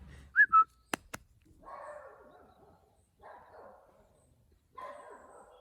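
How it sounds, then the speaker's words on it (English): A short two-note whistle and a couple of sharp clicks are followed by a dog barking in three separate bursts, fairly close and clear against a quiet outdoor background. "because I whistled, he started barking at the cycling guys"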